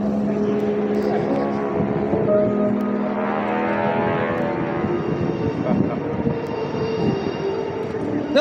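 Solo display jets at the Jones Beach air show, a continuous loud engine roar with whining tones that rise and shift as the aircraft pass, rumbling steadily throughout.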